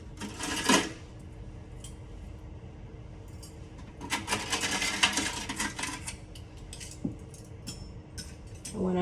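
Steel surgical instruments from a basic veterinary neuter pack clink and rattle as they are handled and laid out, in scattered bursts of metallic jingling with a louder cluster in the middle.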